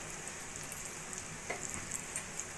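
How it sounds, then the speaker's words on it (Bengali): Sliced onion and four or five cloves of thinly sliced garlic frying in a pan until golden: a faint, steady sizzling hiss with no talking. "পেঁয়াজটা একটু সোনালি করে ভেজে নেব"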